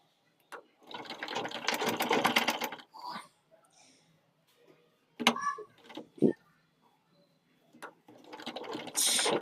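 An electric sewing machine stitches the neckline of a newborn baby's cloth garment in short bursts, with a sustained run of rapid stitching, pauses with small clicks and handling knocks, then another run of stitching at the end.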